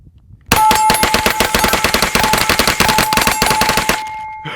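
An FG-15 rifle fires a rapid, continuous string of loud, close shots at a target outdoors, the bursts densely packed for several seconds before cutting off, with a faint ringing tone running through.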